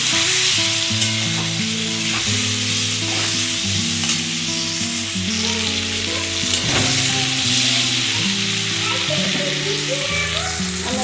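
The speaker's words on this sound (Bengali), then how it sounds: "সামান্য একটু হলুদ আর সামান্য একটু নুন দিয়ে এটা চাপা দিয়ে দিয়ে ভালো করে ভেজে নেবো" Potatoes with turmeric and salt fry in a covered pan, making a loud, continuous sizzle and crackle with a tonal melody running underneath throughout.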